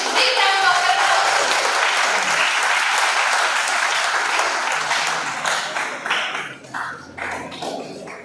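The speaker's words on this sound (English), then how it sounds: "on the stage with big round of applause" A big round of applause from the audience at a radiology conference in India, dense and sustained for several seconds before thinning out into scattered individual claps at the end.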